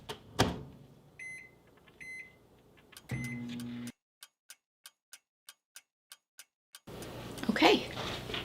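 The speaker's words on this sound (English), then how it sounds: "I'm putting mine in the microwave for 50 seconds" A microwave oven cooking a keto German chocolate mug cake: a steady low hum for a few seconds, a run of beeps, then silence with regular soft clicks before the hum and some talk come back.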